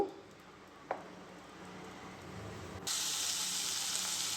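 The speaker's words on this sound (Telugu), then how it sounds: "హాఫ్ స్పూన్ తాలింపు గింజలు వేసుకుందాము" A short click, then at about three seconds a strong, steady sizzle and hiss bursts in as tempering seeds hit hot oil in a wok, continuing close and loud.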